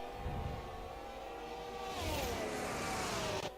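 A Formula 1 car in F1 22 at the Canada circuit brakes hard for the hairpin, its engine pitch sliding downward as it slows, loud and close and with no voices.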